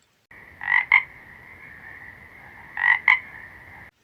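A frog croaks twice in close succession, then twice again after a pause, each pair loud and near over a steady high ringing tone.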